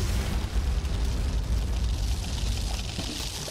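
A Cob Cannon explosion in the video game Plants vs Zombies, as a steady, dense roar of blast noise that holds for several seconds at moderate level, with no talk over it.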